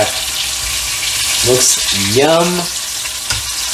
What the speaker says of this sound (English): We're frying the sway fish.